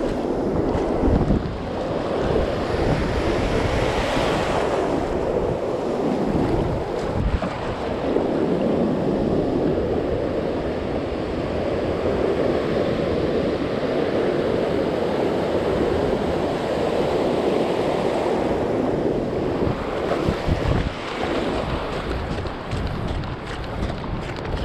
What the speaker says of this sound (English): We got a strong wind coming out of the north.